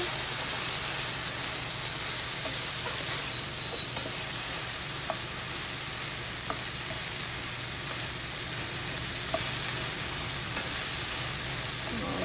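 Food sizzles steadily in a pan on a high, fast stove, a continuous frying hiss with occasional light scrapes and clicks from stirring, fairly close and alone with no talking.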